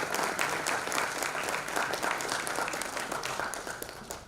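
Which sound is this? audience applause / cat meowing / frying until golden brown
audience applause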